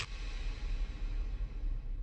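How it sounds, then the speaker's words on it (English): Reversed sound effects layered into an edgy e-boy rap beat form a dense, washy swell that holds steady across the clip, fairly quiet and without any voices. "Throw in some reverse sounds like this."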